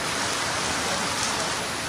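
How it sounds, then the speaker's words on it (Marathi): Steady rain falling during a monsoon-season Ganesh festival goddess procession, a dense, even hiss that stays loud and unbroken throughout with no voices heard. "पाऊस आहे, बारिश आहे, मौसम आहे"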